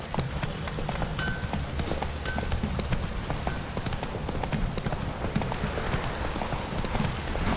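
Horse hooves clip-clopping in a steady walking rhythm in The Witcher 3, close and clear, with soft rain pattering on the ground around them.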